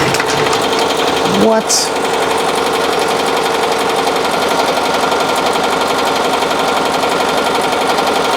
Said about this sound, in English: We're going 740 stitches per minute. We got it dialed up to 800.